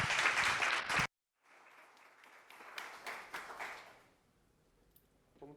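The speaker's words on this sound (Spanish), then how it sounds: "un fuerte aplauso" Conference audience applause at a logistics and transport event, a dense burst of clapping that cuts off abruptly after a second, then lighter scattered clapping that tapers away to near silence.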